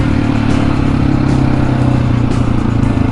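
A KTM 701 Supermoto single-cylinder engine drones loud and close during wheelie practice, holding a steady throttle with slight surges and a faint mechanical clatter.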